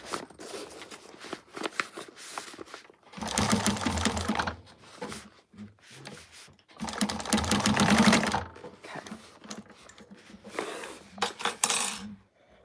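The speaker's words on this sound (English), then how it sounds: "Now you could do a basting stitch like Keziah does." A sewing machine stitching a quilt seam, whirring in several bursts of a few seconds each, broken by pauses filled with quiet handling clicks and rustles.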